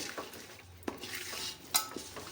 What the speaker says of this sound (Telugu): ఇప్పుడు ఇదంతా ఇదంతా ఇట్లా కలుపుకోవాలండి మంచిగా